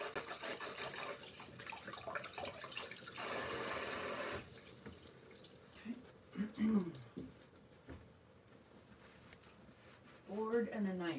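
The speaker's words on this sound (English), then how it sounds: "Wash my hands first." Hands are washed under a running kitchen tap, a steady rush of water lasting just over a second, followed by someone talking nearby.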